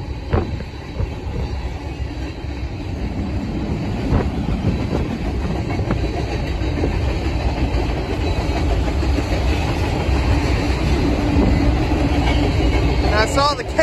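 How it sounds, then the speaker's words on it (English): A long Union Pacific freight train with mid-train DPUs and a Rio Grande heritage unit rolls past at a steady pace, with rumbling engines and the rhythmic clatter of wagons over the rails, plus occasional faint squeals. "this is one long train"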